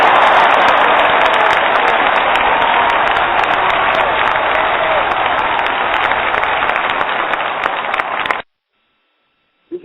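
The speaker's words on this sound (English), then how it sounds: "I'm going to ask the people to give a round of applause for our special guest." Studio audience clapping for a special guest at the close of a radio interview, dense continuous applause for about eight seconds that then cuts off abruptly into silence.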